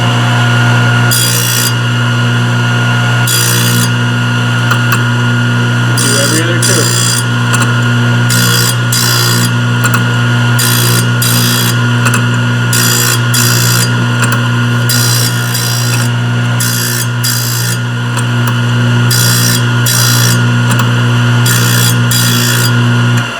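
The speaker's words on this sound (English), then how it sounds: "You want to take a nice light grind again." Thorvie AV-40 grinder taking light passes while sharpening a triple chip saw blade, a loud continuous motor whine with repeated short bursts of grinding rasp at a regular pace.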